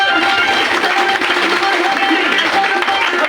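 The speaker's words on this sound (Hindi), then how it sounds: "जिसने भी खुशी कहा उनके लिए जोरदार ताली हो" A crowd at a motivational wellness seminar bursts into hearty applause, a continuous, loud wall of clapping with faint voices mixed in, sustained throughout.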